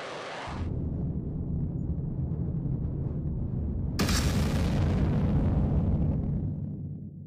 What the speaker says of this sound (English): the rocket leaves the ground at high speed, moves towards the target, and explodes. Let's look at the launch again.